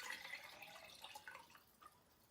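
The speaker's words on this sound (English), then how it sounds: "So I'm going to add in another can of water." Water poured from a jar into a pan of Greek-style baked eggplant with olive oil, heard as a faint, close, trickling splash with light drips, no talking.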